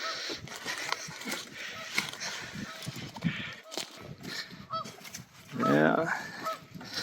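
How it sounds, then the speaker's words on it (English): Geese honk outdoors on a snowy morning near a beaver lodge dam, a chorus of calls scattered through the clip and swelling into a loud close burst near the end, with a voice talking over it. "Got some geese out here."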